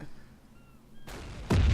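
Ship boiler or fuel explosion in the submarine game Silent Hunter IV, two deep booming blasts in quick succession, the second heavier and rumbling on, rising out of quiet game ambience.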